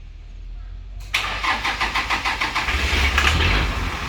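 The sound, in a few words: Toyota Dyna Unimog truck engine starting and idling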